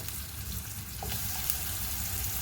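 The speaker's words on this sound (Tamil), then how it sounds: "நாம் இதே எண்ணெயில் இருக்கிற மீன்கள் வந்துட்டு போட்டு விட்டுடலாம்." Kingfish pieces fry in oil over a low flame, giving a steady, even sizzle and crackle that stays close and constant throughout, with no talking.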